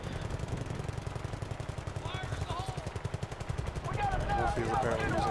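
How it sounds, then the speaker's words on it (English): A Type 88 light machine gun fires in one long unbroken stream in Battlefield Bad Company 2, the rapid evenly spaced shots loud throughout, with brief voices talking over the middle and end. "He's apparently using the Type 88 as he is not reloading"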